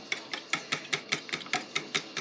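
Fork whisking eggs into milk in a bowl for drop scones: rapid, evenly spaced clicking taps against the bowl, about five per second, close and fairly quiet.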